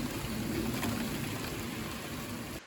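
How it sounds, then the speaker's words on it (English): Rain falls steadily outside a greenhouse in a vegetable garden, a dense even hiss of drops that stays constant and fairly faint before cutting off abruptly. "It's raining today, so you may hear that in the background."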